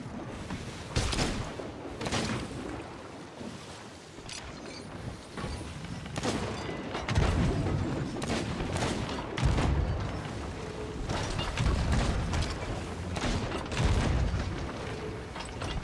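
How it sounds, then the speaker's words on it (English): Cannons boom across a naval battle in a multiplayer video game, repeated heavy blasts at irregular intervals over creaking ship mechanisms and constant loud battle noise. "Bro, are they gonna cannon this guy's boat?"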